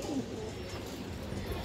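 Old-breed green-necked pigeons, among other fancy sale birds, give a faint throaty coo near the start over a dull steady background murmur.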